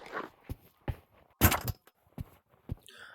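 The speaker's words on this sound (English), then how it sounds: "let me grab the ammo box" Sharp thunks and clunks ring out one after another as an ammo box is grabbed in the VR shooter game Pavlov, with soft rustles between the hits and no speech.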